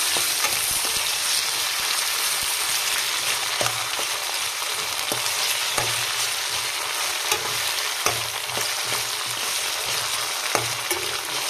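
Crushed green chilies and onions fry in oil for lemon rice, giving a loud, dense, continuous sizzle with regular utensil stirring clicks throughout, no one speaking.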